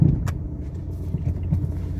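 A BMW 4 Series Gran Coupe 420d 2.0 diesel with a manual gearbox cranks and fires up, settling into a low, steady idle rumble, fairly close.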